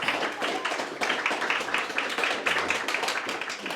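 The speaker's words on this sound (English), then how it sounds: "a round of applause, please, for Chaz Dowie" A small room at a boxing promotions press conference greets a new arrival with a short round of applause, a scattered patter of individual claps that is fairly close and uneven throughout.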